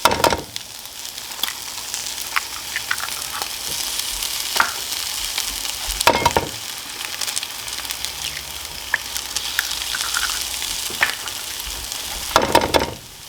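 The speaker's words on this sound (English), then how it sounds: "time to crack in some fresh farm eggs that we just got yesterday" Fresh farm eggs, four of them, are cracked into a hot pan over high heat and stirred. A steady, close sizzle of frying runs throughout, broken by a few sharp clicks and scrapes.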